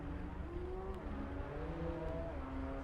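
Race cars droning past in the distance in Assetto Corsa Evo at the Glen, with faint engine tones rising and falling steadily under a low background rumble.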